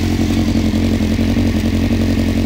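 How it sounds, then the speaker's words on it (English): A Honda CBR900RR Fireblade motorcycle engine idles close and loud with a steady throb and a constant rhythmic clicking running through it. "it seems to be making that constant clicking sound"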